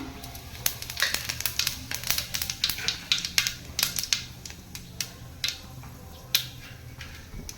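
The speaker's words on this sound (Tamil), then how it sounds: "சோம்பு வெடிச்சிருச்சு" Fennel seeds spluttering in hot oil, sharp irregular pops and crackles snapping close by over a low background hiss.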